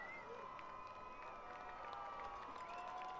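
Panthers fans in a packed stadium cheer at a high school football game, a distant, faint crowd roar with scattered shouts and whistles, steady throughout.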